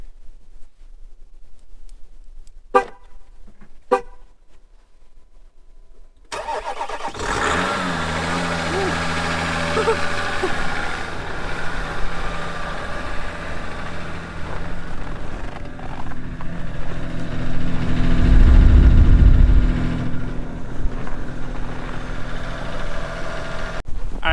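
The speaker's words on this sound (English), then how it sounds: "See how the Jeep starts up." A Jeep Wrangler EcoDiesel cranks in 11-degree cold and fires up into a loud, steady diesel idle, swelling briefly toward the end, with a voice talking over it.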